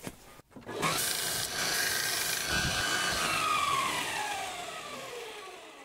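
A belt grinder fitted with a 100 grit belt sands a steel workpiece in one continuous, close, rasping pass lasting several seconds.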